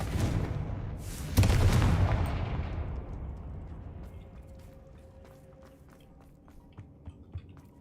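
Confringo fire spell exploding in Hogwarts Legacy, a loud booming blast with a crackling burst that decays slowly into a fading rumble, followed by faint scattered clicks.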